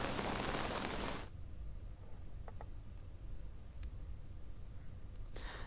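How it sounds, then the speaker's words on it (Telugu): Heavy rain in Hyderabad: a loud broadband wash of rainfall for about a second, then a softer steady patter with faint scattered clicks. "సో చాలా వరకు ఆ ట్యాంక్ బండ్ పరిసర ప్రాంతాల్లో వర్షం గట్టిగా పడుతుంది"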